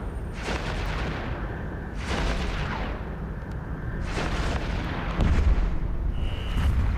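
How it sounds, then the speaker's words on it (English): Weapons fire in the space game EVE Echoes crashes out in repeated heavy booming bursts, four or five broad explosive blasts spaced a second or two apart over a continuous low rumble. "Enemy ships detected. We're under attack."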